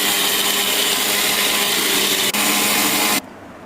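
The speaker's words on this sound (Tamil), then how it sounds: "கொஞ்சமாக தண்ணி விட்டு மிக்ஸி ஜாரில் அரைச்சி எடுத்துக்கோங்க." Loud, steady whirring roar of a mixer grinder grinding dosa batter with a little water, running continuously, briefly dipping once, then stopping abruptly and leaving a quiet hum.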